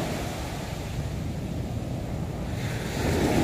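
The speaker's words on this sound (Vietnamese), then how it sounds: "Mọi người thấy sóng biển không?" Large sea waves roll and break steadily on Nha Trang beach, a constant broadband wash of surf with wind rumbling against the microphone, swelling louder near the end.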